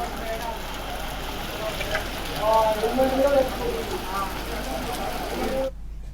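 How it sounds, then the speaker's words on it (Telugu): Heavy rain pours down on Hyderabad city streets in a steady, dense hiss of drops, with faint muffled voices rising briefly in the middle before an abrupt cut to silence. "హైదరాబాద్లోని ప్రధాన ప్రాంతాలైన ట్యాంక్ బండ్, ఎల్బీనగర్, ఖైరతాబాద్, కుకట్పల్లిలో భారీ వర్షం కురిసింది."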